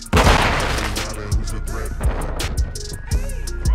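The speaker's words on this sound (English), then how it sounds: "Shooting at each other there" Call of Duty Modern Warfare 2 beta Team Deathmatch on the Breenbergh Hotel map, Xbox Series X: a loud opening blast followed by a scatter of separate gunshots at irregular intervals, with game ambience and clatter underneath.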